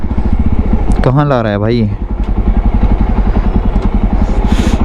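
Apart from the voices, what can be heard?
Jawa Bobber 42 motorcycle engine riding in 4th gear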